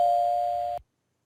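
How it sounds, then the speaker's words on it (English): A Purple Mash advent calendar doorbell chimes as one steady electronic tone, held clearly for under a second before cutting off abruptly into silence. "The doorbell rings."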